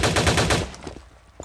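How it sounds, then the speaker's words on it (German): Rapid video game machine-gun fire, a loud close burst of fast repeated shots that cuts off after about half a second, followed by a few scattered quieter reports. "Ich schieße doch einfach."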